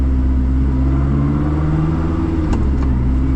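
Koenigsegg CC850 engine heard from inside the car, a loud continuous rumble with revs rising as it is shifted into third gear.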